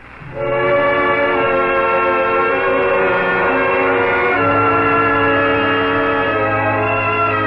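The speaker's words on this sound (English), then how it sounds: "Like a ghost train cutting its way through the night." A train horn blares at night in a long, sustained multi-tone chord that shifts pitch partway through, loud and close, with a steady rumble beneath as the train passes.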